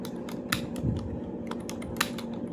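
Fingers tapping out English typing practice on a computer keyboard, a quick irregular run of crisp key clicks with a few louder strokes, close and clear, no voices.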